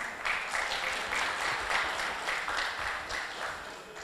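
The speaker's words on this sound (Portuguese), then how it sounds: "Uma salva de palmas, por favor." Audience at a panel event applauding a federal deputy, steady, full-room applause holding at an even level throughout.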